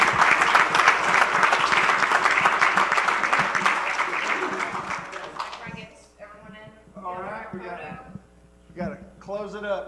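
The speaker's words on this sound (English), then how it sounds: "So I want to give the kids a big round of applause for a job well done." Audience at a council meeting applauding a kids' archery team, loud sustained applause for about five seconds that fades as voices begin talking.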